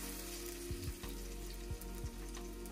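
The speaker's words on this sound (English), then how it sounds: "Give it a stir." Green onion whites fry in plenty of hot oil in a wok, giving a constant close sizzle broken by three or four scraping stirs of a utensil.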